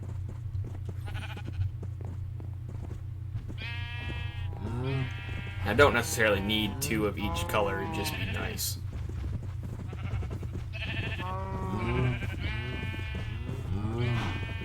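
Several Minecraft sheep bleat in short, repeated cries against a steady low game hum, while someone talks over them for much of the stretch.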